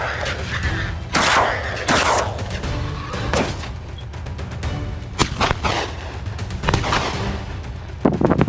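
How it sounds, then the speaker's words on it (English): Rifle fire during a wild boar hunt in California: a series of loud, sharp, booming reports at irregular intervals, each with a short echoing tail over a rumbling background. "A breath, a squeeze of the trigger, bang. A single clean shot ended its feast."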